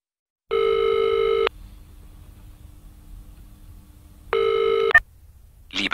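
A telephone number is dialed for a service line: two bursts of rapid touch-tone dialing, separated by a low steady tone, then a short click. Clean and close, with no voices.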